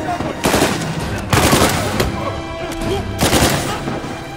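Gunfire in the video game Uncharted 4, loud bursts of automatic fire in three clusters with gaps between them.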